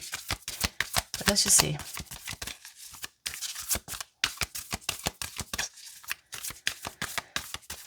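Tarot cards shuffled by hand in a long, steady run of crisp, rapid riffling flicks close up, with a short spoken remark partway through.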